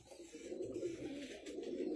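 A pigeon coos softly and continuously at close range, a low, throaty burbling with some faint background noise.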